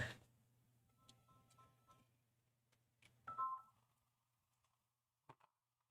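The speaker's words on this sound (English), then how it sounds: "And I'm getting a phone call." Phone signaling an incoming call, faint electronic tones and beeps with short gaps, a few soft ticks and a brief brighter chirp near the end, heard alone in a quiet room.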